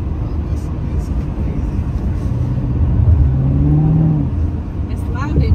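A supercharged LT4 car engine revs in a loud indoor space, the tone swelling and climbing for about a second midway over a steady broadband rumble, with indistinct voices around.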